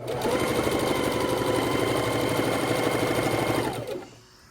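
A sewing machine runs in one long continuous burst, stitching jelly roll quilt strips across interlocked seams, its rapid needle chatter loud and even before stopping abruptly.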